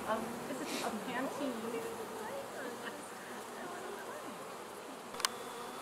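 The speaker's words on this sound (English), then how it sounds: "I'm going to get the bees out of here that are on it." Honey bees swarm around a hive box during hive work, giving a steady, dense buzzing drone heard close up throughout, with one brief sharp click near the end.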